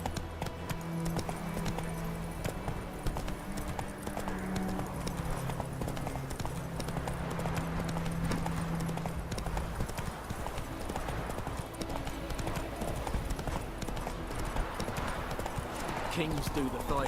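Roach, a horse in The Witcher 3, gallops with quick rhythmic hoofbeats clip-clopping steadily throughout, mixed with game music and speech.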